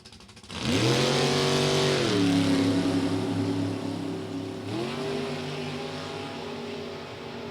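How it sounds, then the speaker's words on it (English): A Grand Prix and a 1969 Camaro launch side by side at full throttle in a drag race at Norwalk, their engines roaring loudly and rising in pitch through the gears as they accelerate away down the track, with no talking. "Full throttle as they head down track."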